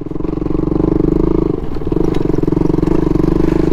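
A motorcycle engine drones loudly and steadily on an off-road ride up toward Kakani, Nepal, on a bike with a weak rear suspension. A throbbing low growl comes with faint clattering and a brief dip midway, and no one speaks.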